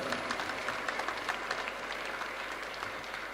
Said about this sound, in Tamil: இதுக்கெல்லாம் கைத்தட்டி ஆண்டவருக்கு நன்றி செலுத்துங்க.